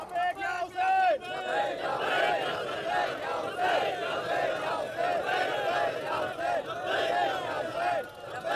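A gathering at a Shia religious address chants slogans in unison, a loud mass of raised voices rising and falling in steady, repeated calls that fill the whole stretch.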